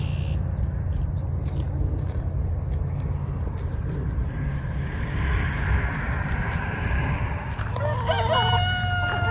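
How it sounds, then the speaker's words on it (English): Chickens clucking and a rooster crowing over a constant low rumble of outdoor noise, with birds calling near the end. "Why are the chickens coming?"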